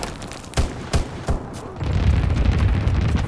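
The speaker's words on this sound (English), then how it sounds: "Flak bursts commenced." Flak bursts in the World War II shooter Call of Duty: WWII, with three or four sharp, booming cracks spaced about half a second apart, followed by a heavy, continuous low rumble of battle.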